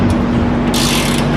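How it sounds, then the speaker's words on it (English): Ratchet wrench with a 22mm socket loosening cam bolt nuts on a Toyota Tacoma's suspension during a coilover and upper control arm swap, a steady close clicking grind running throughout. "those nuts are going to be a size 22mm socket to remove, so that's what we're going to go ahead and loosen right now"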